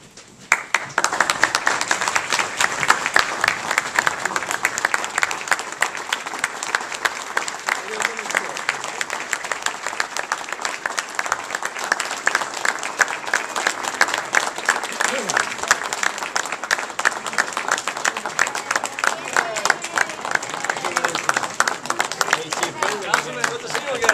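Sustained, loud applause from an audience at a police honors ceremony in Brooklyn, New York, as honorees enter to a standing ovation; dense, steady clapping continues throughout with crowd noise and some voices mixed in.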